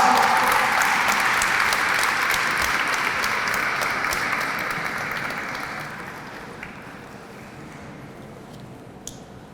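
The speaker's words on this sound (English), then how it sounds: "Round of applause." At an award presentation during a Hispanic Heritage Month opening ceremony, a crowd claps in a dense, sustained burst that gradually fades over several seconds, leaving a few scattered claps at the end.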